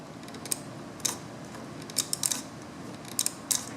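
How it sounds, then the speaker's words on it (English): An automotive relay in a Jeep TJ ticks with sharp, light clicks, irregularly spaced, some in quick pairs, close up over a steady low background hum. "you can hear it click. In fact, I can hear it click right now."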